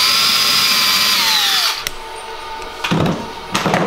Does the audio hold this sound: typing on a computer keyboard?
no